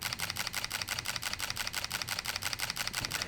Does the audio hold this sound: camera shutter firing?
yes